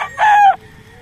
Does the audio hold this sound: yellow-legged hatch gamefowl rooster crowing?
yes